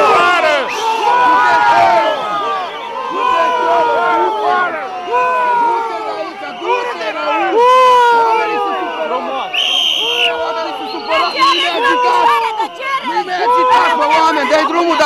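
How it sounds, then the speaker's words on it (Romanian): Protesting workers booing and shouting as they jostle a bailiff, an agitated crowd of raised voices and jeers filling the whole stretch, close and dense with overlapping yells. "Cea care trebuia să pună în executare decizia a fost huiduită și bruscată de către protestatari."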